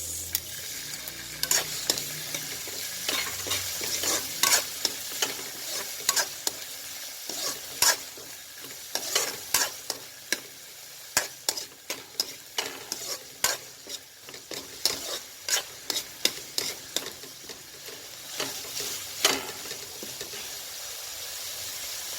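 Tomatoes sizzle in a hot pan while being stirred for squid adobo, with repeated scraping and clacking of the spoon against the pan over steady frying hiss.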